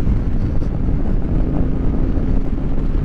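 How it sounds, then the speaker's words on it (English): Moto Guzzi Breva motorcycle riding on a road on new Michelin Road 6 tires, heard as steady loud rushing wind buffeting with a low engine and road rumble underneath. "I'm taking my first ride and breaking in my new road sixes on the Moto Guzzi Breva."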